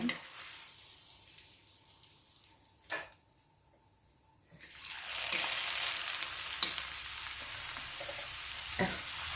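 Pork-filled wontons deep-frying in oil one at a time: quiet at first with a couple of thumps, then a loud, dense bubbling sizzle swells up and holds steady nearby, with a few clicks over it.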